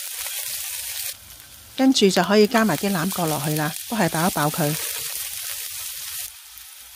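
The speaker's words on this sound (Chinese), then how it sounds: "我哋呢爆一爆啲薑先" Ginger frying in hot oil in a wok over medium heat makes a constant soft hiss that runs beneath a short stretch of a person talking, then carries on alone.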